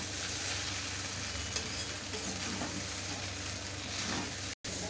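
Chow mein stir-fries in a hot pan with fried egg bhujia and chicken pieces, producing a loud, continuous sizzle with scraping stirring noises, close up, with a brief cut near the end.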